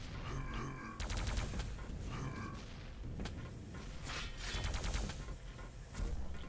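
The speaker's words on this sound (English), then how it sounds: "Nice long range with the MG." A machine gun fires in an arena shooter video game, rapid bursts of clattering shots in several volleys, fairly close and steady against game noise.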